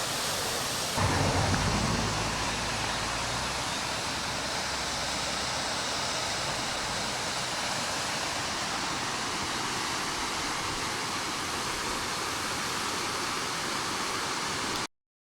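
Steady broadband roar of a waterfall in a Shenandoah Valley state park in Virginia, constant and enveloping throughout, with a brief louder low rumble at the start.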